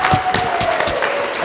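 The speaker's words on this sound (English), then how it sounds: "just give him a round of applause for that" Wedding guests break into a round of applause for a speech, loud and close, the clapping dense over a faint background tone.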